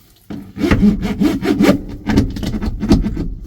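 A ribbed roller is pressed and rolled over Dynamat sound deadener on a car panel of a Peterbilt 359 truck, giving a steady, close, rubbing and scraping sound in repeated strokes with no talking.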